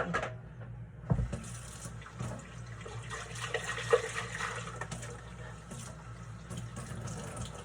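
Tap water splashes and rinses out a container that held salsa verde, running steadily near the mic with a hard knock early on and sloshing that swells and fades, with no talking.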